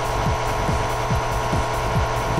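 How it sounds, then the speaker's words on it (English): MSRS90 90-degree roughing cutter heavy-milling a metal workpiece, a dense continuous machining roar with a steady high whine and regular low thumps about every half second, loud and close. "MSRS90 achieves high efficiency milling"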